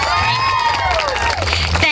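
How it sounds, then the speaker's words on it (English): Audience gives a round of applause at a sorority groundbreaking ceremony, dense clapping and cheering from a crowd over background music, cutting off near the end. "Let's give her a big round of applause"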